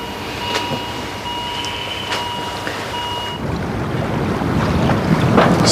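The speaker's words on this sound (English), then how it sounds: "lot of wind for kite surfing." Steady wind blowing outdoors near open water at a kite-surfing spot, a continuous rushing noise that buffets the microphone and builds slightly louder toward the end.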